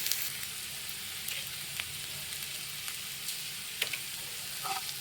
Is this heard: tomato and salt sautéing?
yes